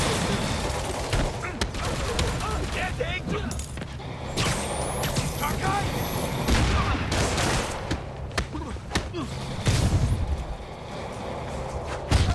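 Rapid gunfire crackles in Marvel's Spider-Man Remastered, a steady barrage of shots over rumbling street noise, while a person talks over it.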